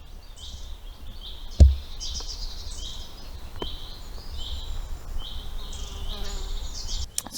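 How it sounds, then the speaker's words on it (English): Small birds chirp in a woodland caravan site at Borrowdale, light scattered tweets at moderate distance over a faint insect-like buzz, with one sharp nearby knock and no talk. "All you can hear at the moment is like little tweety birds"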